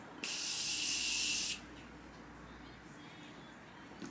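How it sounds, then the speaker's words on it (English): A single continuous hiss of aerosol makeup spray mist, about a second and a half long, close and fairly loud, then quiet room tone. "it's like a aerosol continuous mist"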